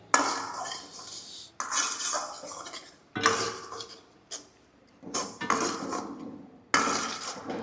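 Red chilli sauce and chilli sauce mixture being stirred, heard as close, loud bursts of utensil scraping and clinking against a dish, about five stirring runs separated by brief pauses, with no talking.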